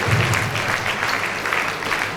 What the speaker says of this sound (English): a round of applause for our government